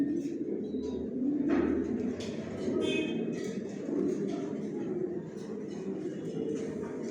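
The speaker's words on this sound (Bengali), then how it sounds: "এখানে কত কবুতর ধরে দেওয়া আছে" A crowd of around a hundred pairs of pigeons coos steadily inside a new gridded loft cage, a dense low rolling murmur heard close, with someone talking over it.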